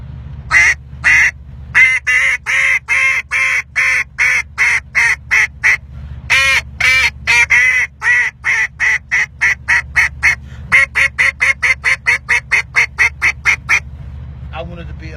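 A double-reed duck call blown in rapid bursts of quacks, a steady run of short, loud, evenly spaced calls that tighten into fast chatter toward the end, close up over a low background hum.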